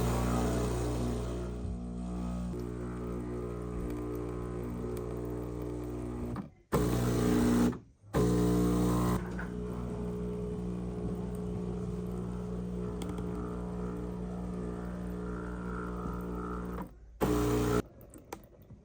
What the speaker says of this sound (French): la machine pompe, alterne des phases d'écoulement et de pause